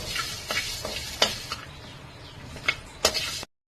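Chana dal dry roasting in a pan makes soft, dry rattling and several sharper scrapes as it is stirred at uneven intervals, all close and fairly quiet, before the sound cuts to silence.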